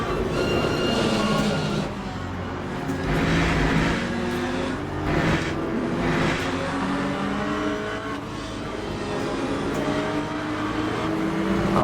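Corvette Z06 LMGT3.R race car in Le Mans Ultimate at Spa, engine held high in top gear with a sustained whine, other cars' engines rising and falling nearby and a voice talking over it.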